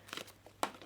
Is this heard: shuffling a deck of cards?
yes